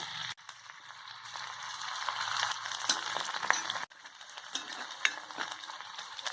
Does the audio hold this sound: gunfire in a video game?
no